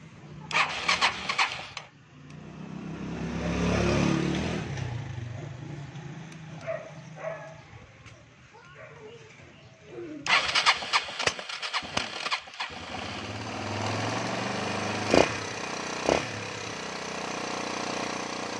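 A Yamaha WT 200 motorcycle, battery-operated, is being started. Short bursts of cranking sputter early, then a louder stretch of engine noise follows, and the rough, uneven running settles in near the end.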